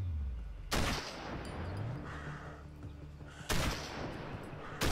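Gunfire from enemy soldiers in the shooter Sniper: Ghost Warrior, with two sharp, loud reports several seconds apart over a steady rumbling battlefield background.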